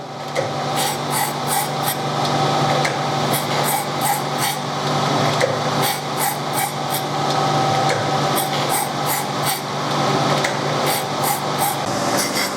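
Repeated rasping, grinding strokes on a BMW exhaust manifold, in regular bursts of several passes each, with a steady mechanical hum underneath.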